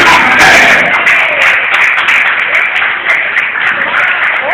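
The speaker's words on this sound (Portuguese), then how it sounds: "Dá uma salva de palmas para Jesus!" Church congregation applauding loudly and continuously throughout, a dense wash of clapping close by with crowd noise and cheering voices mixed in.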